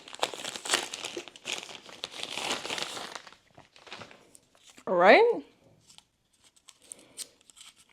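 Paper packaging around an Elgato Wave 3 microphone crinkles and tears in bursts during unboxing, close and fairly loud, with someone talking over the first half and a brief voiced exclamation in the middle.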